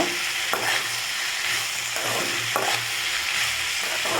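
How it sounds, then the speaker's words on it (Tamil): Okra sautés with onion and tomato for a lentil pachadi, a loud close sizzle broken by regular spatula scrapes and stirs roughly every half second, with no talking. "வெண்டைக்காய் சேர்த்து நல்லா வதக்கிக்கோங்க"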